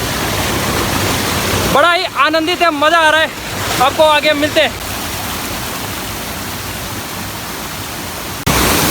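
A hidden waterfall in Rohini, Kurseong roars loud and constant, a dense wash of falling water with someone speaking over it for a few seconds.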